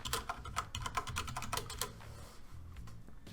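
Administrator credentials typed on a computer keyboard, a rapid run of crisp key clicks close up that slows and thins toward the end, with no voices.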